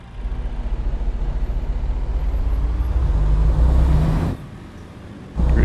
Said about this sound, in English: That's even with the Cummins, that's what you're gonna get, is that little bit of a whine